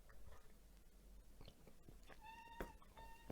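House cat meowing in a room, a few short harmonic mews near the end after soft rustling and shuffling, faint and somewhat distant, no talking.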